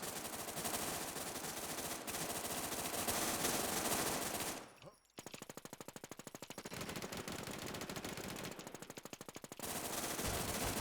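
Sustained machine gun fire in the WarZ video game, long rapid bursts of shots with a brief pause midway, then more fast rattling fire, loud and close.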